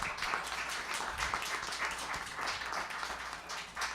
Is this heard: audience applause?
yes